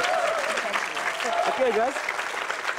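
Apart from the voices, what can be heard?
applause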